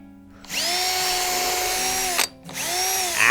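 A power drill drives screws into wood for custom shed doors, two loud whirring bursts with a short pause between them, the motor pitch steady and slightly dropping as each screw seats.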